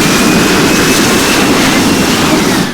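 A jet airliner in the flight simulator Infinite Flight roars with reverse thrust after landing, a loud, steady broadband engine rush with a thin high whine running through it.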